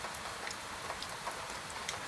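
Gentle rain falls steadily through the night, a soft, even hiss with faint scattered drop ticks, alone and without voices.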